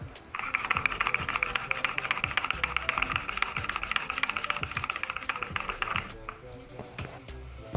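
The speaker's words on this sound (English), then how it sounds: "I'm gonna sharpen this chisel real quick" Chisel being sharpened on a sharpening stone at a 30-degree angle, a steady rhythmic scraping rub of strokes back and forth for about six seconds, close and moderately loud, then tapering off.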